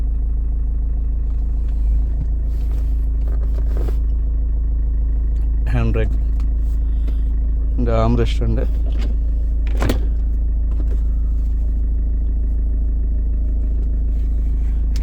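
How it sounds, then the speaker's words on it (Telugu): A 2015 Mahindra XUV 500 W8 diesel with six-speed manual gearbox idles steadily as a low, constant engine drone throughout, under close talk and a few brief interior clicks. "సింగిల్ సెల్ఫ్కి ఇంజన్ స్టార్ట్ అయిపోయింది."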